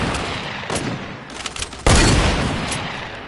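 Heavy Fortnite gunfire in a squad match, a dense burst of shots that swells into a loud sustained barrage partway through, close and dominant with no talk over it.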